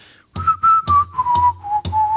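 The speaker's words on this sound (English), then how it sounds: "someone is tapping the guitar to keep time and whistling the intro" Someone whistles a simple song intro, clear and close, over sharp evenly spaced taps on a guitar keeping time.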